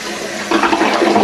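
A toilet flushing nearby, a loud steady rush of water with a gurgling swell partway through, alone without talk.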